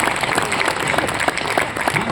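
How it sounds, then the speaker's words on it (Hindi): Clapping from an audience member at a poetry recital in Sujangarh, a run of sharp, fairly quick claps over a faint crowd murmur, with no talk. "एक आदमी ताली बजा रहा है"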